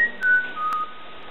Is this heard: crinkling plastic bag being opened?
no